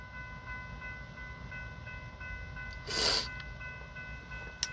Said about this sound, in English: So, now the train's coming from the left, going towards the right.